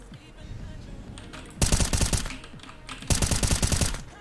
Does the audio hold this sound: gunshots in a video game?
yes